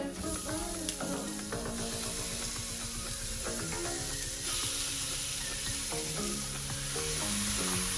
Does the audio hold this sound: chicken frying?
yes